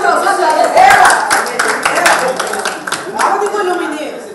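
An audience claps in a brisk, scattered burst of sharp hand slaps, mixed with loud voices talking over it the whole time.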